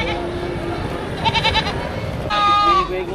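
Goats bleat at a busy outdoor livestock market, with two short wavering calls over a steady murmur of crowd noise and talking.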